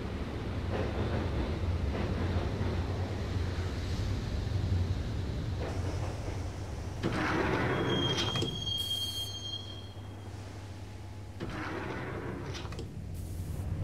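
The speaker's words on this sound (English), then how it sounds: "the train doors had already shut behind me, and I was in for the ride" A subway train in the Max Payne video game rumbles along the rails toward Roscoe Street Station, a steady loud roar with shifting swells, a high metallic squeal midway and hissing bursts like sliding doors.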